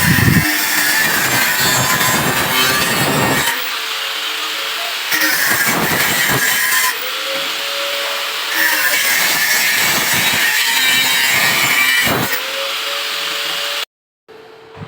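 Metal is cut and trimmed for a tubular stair step in a welding workshop. A loud, continuous harsh cutting noise runs in long passes with brief dips, then stops abruptly near the end.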